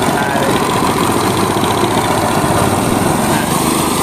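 A small engine drives a mini rice thresher that fills sacks with grain, running loud and steady up close with a continuous buzzing drone and rattling vibration throughout.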